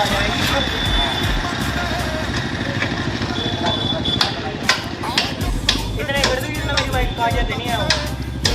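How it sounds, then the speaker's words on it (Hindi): A Suzuki Gixxer SF 155 motorcycle with a modified exhaust idles nearby in a steady, rapid chug, with sharp knocks and clatter over it and people talking. "मेरी बाइक ने चालू ही खड़ी कर रखी है।"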